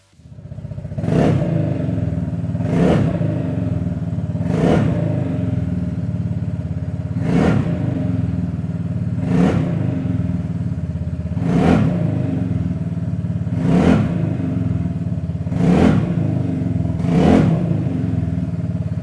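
A Vespa GTS Super 300 scooter fitted with a Pordoi exhaust idles after starting, a loud, steady close-up engine drone marked by regular periodic pulses roughly every two seconds.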